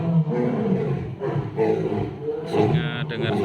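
A lion roars after the Islamic call to prayer, deep rumbling calls rising and falling across several seconds, heavily mixed with voices and crowd noise nearby.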